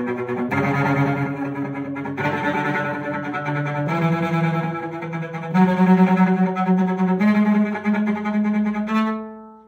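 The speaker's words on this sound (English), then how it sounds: "you are playing sautillé" A cello plays rapid bouncing sautillé bowed notes in even groups, close and fairly loud, ending on a sustained note that fades out.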